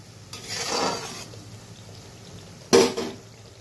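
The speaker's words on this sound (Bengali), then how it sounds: "একটু মশলাটা কষে নিই।" Spice paste for squash ghonto is stirred and fried in a pan, with a soft sizzling scrape followed later by a sharper clatter and sizzle.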